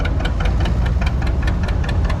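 A 1959 John Deere 630 tractor runs during a tractor parade, its engine giving a steady, loud low-pitched chug with a regular knocking rhythm of about five beats per second, with no talk over it.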